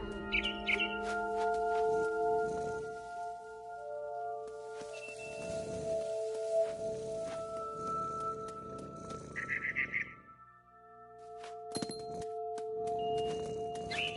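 A frightened bird lets out a few short, high chirps, one early and one near the end. They sit over a steady tonal hum and layered background sounds, with no talking.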